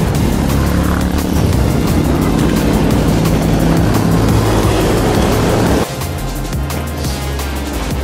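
A car overtakes a cyclist on a road, its engine and tyre roar loud and close for several seconds, then cutting off into a quieter rush of wind and road noise as it pulls away.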